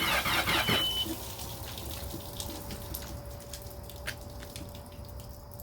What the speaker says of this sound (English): I think that's water from the exhaust.